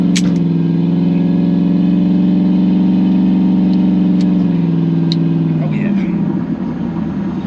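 A Chevrolet Camaro engine with a slightly lowered idle and newly fitted injectors runs in a steady, loud, deep rumble throughout, easing off slightly near the end; a voice talks faintly beneath it.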